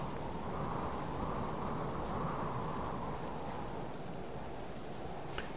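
Steady, dense rain pours in a video game thunderstorm, a continuous loud hiss of falling water that fills the whole stretch with no voices.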